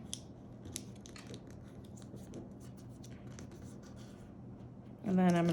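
Origami paper folded by hand for a ninja star, soft crinkling and creasing close by, a sharper crisp rustle at the end.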